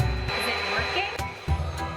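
An electric air blower drives air into a SlumberTot inflatable bed as a steady, fairly loud whooshing hum that runs the whole time, with brief bumps and thumps as the adapter shifts.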